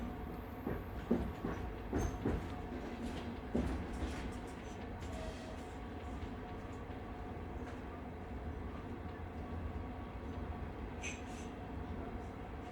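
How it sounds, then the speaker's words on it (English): A night train running through the snowy Alps, its steady low rumble and rail noise rolling on continuously with faint clicks and a brief higher squeal near the end, heard from inside the carriage. "The train slows again."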